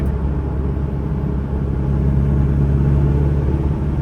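A 2006 Isuzu D-Max SLX pickup with a 2.5-litre engine accelerating under hard throttle, a loud, steady low rumble that builds slightly and is heard from inside the cab.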